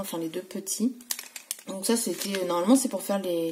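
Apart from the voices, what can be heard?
No everyday noises stand out.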